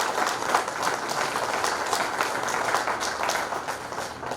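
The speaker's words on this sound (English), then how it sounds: "please give your community a round of applause for making sure that all of you are counted." Sustained applause from an audience at a community memorial gathering in Chicago, steady broadband clapping throughout at moderate loudness with no talk over it.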